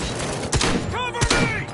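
Gunfire in the Robocop video game rings out as a quick volley of loud, close shots with sharp thuds, mixed with a brief electronic whine and background game noise.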